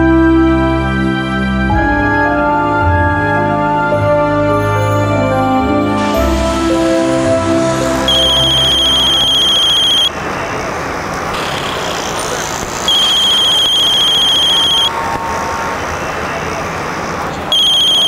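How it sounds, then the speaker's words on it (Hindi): A telephone rings in repeated bursts with short pauses, loud and close, over a steady background of road and engine noise. "बोलो विशाल, मैं तुम्हें कितनी देर से कॉल कर रही हूँ, तुम मेरा फोन क्यों नहीं उठा रहे हो?"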